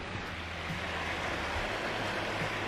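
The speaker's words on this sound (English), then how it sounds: "you open the window and can hear the river" A river flowing outside a cabin, heard through an open window as a soft, steady, even rush with no breaks, faint and distant, with no talking.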